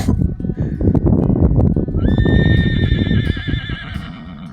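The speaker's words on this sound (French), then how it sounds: "les chevaux se sont arrêtés net car ils ont fait un blocage" A loud horse whinny rises and wavers over a busy clatter of hooves and movement close by as horses stop short, then the commotion fades toward the end.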